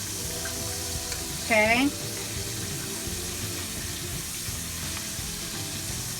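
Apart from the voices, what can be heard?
country fried steak frying in hot grease after flipping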